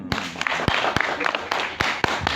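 Brief applause from an audience at an Indonesian talk, with a few sharp claps standing out over a crowd murmur and voices.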